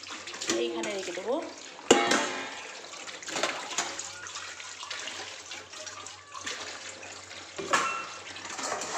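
Things are washed by hand in a basin of water set on a table, with splashing, sloshing and running water in irregular bursts close by. A voice is heard faintly in places.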